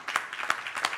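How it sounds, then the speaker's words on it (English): Audience applause at an evening temple gathering, a scattered patter of claps with several louder bursts rising and falling over about a second, fairly close and without talk. "I hear the bigger claps there."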